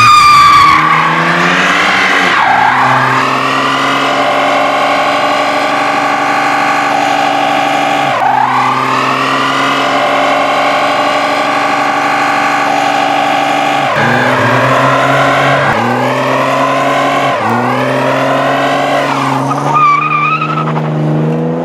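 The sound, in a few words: Chevrolet S10 truck doing burnouts, tires squealing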